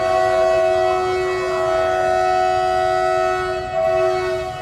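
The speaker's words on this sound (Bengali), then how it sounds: "ওই দেখো যে ট্রেনটা এখন চলে যাচ্ছে" A train pulling out of Malda Town station sounds a long, loud steady horn over the rolling rumble of its wagons, close by and sustained throughout.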